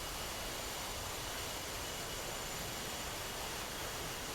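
An F/A-18 jet in a flight simulator game flies its approach to an aircraft carrier with gear and flaps down. The engine roars steadily and evenly throughout, with no other sounds.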